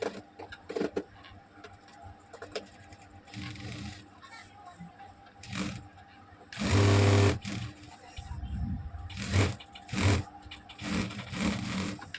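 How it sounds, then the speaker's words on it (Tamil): A sewing machine stitches a stone-work boat neck princess-cut blouse in short, intermittent bursts of whirring, with a person talking between runs. "நம்ம வந்து பொறுமையாக தான் ஸ்டிச் பண்ணிகிட்ருக்கோம்"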